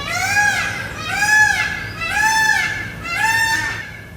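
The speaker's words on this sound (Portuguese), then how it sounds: "Ah, um pavão." A peacock calls four times in a row, loud, nasal, wailing cries evenly spaced about a second apart, close by with faint background noise.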